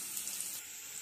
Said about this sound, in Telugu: ఆయిల్ హీట్ అయినండి ముందుగా తాలింపు గింజలు వేసుకోవాలి